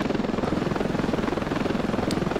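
A helicopter in the Ravenfield game pulses with a rapid, even rotor chop over a thick engine roar, loud and close, steady for the whole stretch with no talk.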